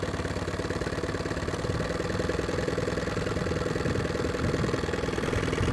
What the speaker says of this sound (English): Now the motor is running in neutral, idling fine.